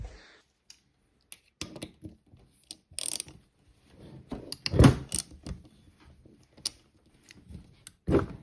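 Bolts being tightened to mount a bottom-mount turbo manifold for an IS200 GT28 turbo install, heard as scattered ratchet clicks, metallic clanks and tool handling, with irregular bursts separated by quiet gaps.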